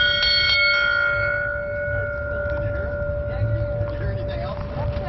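A bell on a Mack fire truck rings a few times at the start with a bright, sustained tone that slowly decays, followed by background rumble and people talking nearby.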